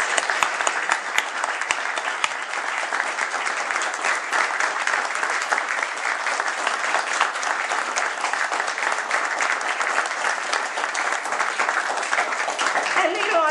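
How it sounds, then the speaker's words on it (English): Sustained applause from a large crowd, dense steady clapping that holds at an even level throughout without letting up. "I hope we can give her a round of applause for who she is"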